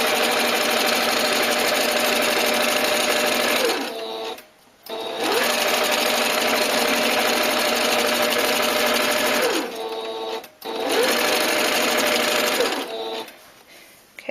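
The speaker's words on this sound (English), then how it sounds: "Notice as I sew the straight line, I have my hand to the left of the presser foot" A sewing machine stitching a straight line on fabric, running in long continuous bursts of rapid mechanical chatter with two brief pauses between runs, loud and close.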